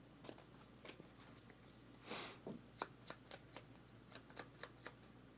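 Playing cards for a board game are shuffled nearby, a soft riffle followed by a steady series of light snapping card taps, quiet and without talking.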